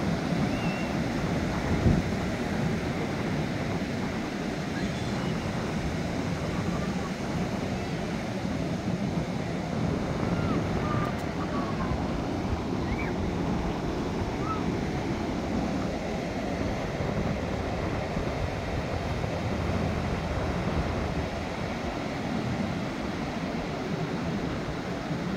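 Ocean waves wash steadily onto a beach near a stone stairway while wind roars across the microphone, a dense continuous surge with no talking, all at a constant loudness for the whole stretch.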